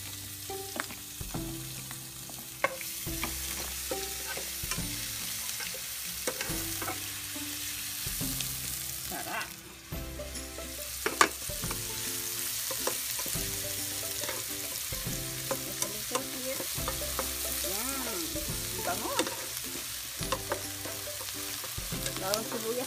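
Onions and garlic fry in a pan for pork bistek, a steady sizzle running throughout, with intermittent stirring scrapes and background music tones layered over it.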